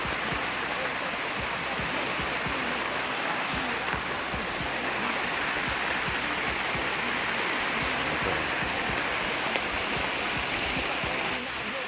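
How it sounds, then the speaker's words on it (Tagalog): Heavy rain pours down in a steady, dense roar of close, loud hiss and splatter that holds unbroken throughout. "lumakas na naman po yung ulan"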